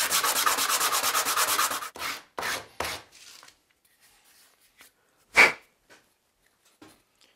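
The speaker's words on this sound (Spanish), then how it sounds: "vamos a lijarlo como siempre. Esa manía que yo tengo de lijar las cañas." A cane reed is sanded by hand: about two seconds of fast, rhythmic rasping strokes, then a few separate scrapes and one sharp rub, close and alone.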